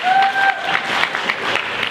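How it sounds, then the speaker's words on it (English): Audience at an engineering panel conference applauding a panelist, a short burst of clapping with faint tonal whine and crowd murmur, moderately loud. "A round of applause for Elizabeth."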